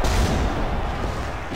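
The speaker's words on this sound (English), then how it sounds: "Jimmy still continue to attack the Uberbeast with that C4 explosive. And that explosion on the Uber one." A C4 explosion in a wrestling video game erupts as a loud, sustained, rumbling blast that fills the whole stretch with dense low-heavy noise.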